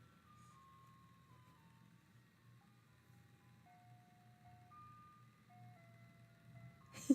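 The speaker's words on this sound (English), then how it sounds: "You guys can hear the ice cream truck." An ice cream truck's chime tune plays faintly in the distance, a thin melody of sustained notes stepping up and down over a low background hum, ending with a brief louder knock.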